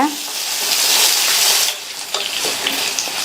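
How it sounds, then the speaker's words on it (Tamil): Potatoes sautéed in hot oil, a loud close sizzle that holds steady, then drops slightly as a spatula scrapes and stirs them in a few short strokes. "எண்ணெயிலேயே இந்த உருளைக்கிழங்க 2-3 நிமிஷத்துக்கு நல்லா இந்த மாதிரி வதக்கி விட்டுக்கங்க."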